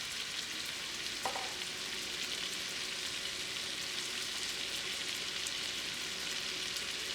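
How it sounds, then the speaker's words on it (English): Shrimp searing in a pan with garlic butter, a steady, close crackling sizzle with fine popping spatter and one brief clink of a utensil early on, continuing evenly throughout. "You want to get a nice sear on each side, a nice browning."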